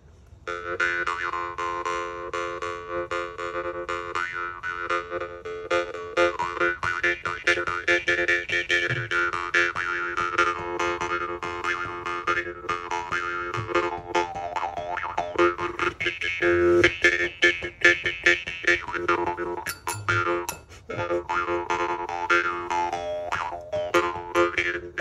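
A freshly bent, balanced reed tuned to F on a Boxcar Spike jaw harp twangs continuously, a buzzing, resonant drone with shifting overtones and steady rhythmic plucks throughout.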